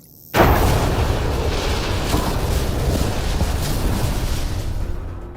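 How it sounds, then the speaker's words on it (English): A loud spaceship explosion from the game Mass Effect Andromeda bursts in abruptly and then rolls on as a sustained, roaring boom with dense rumble, holding steady for several seconds before easing off at the end. "The ship explosion would be silent."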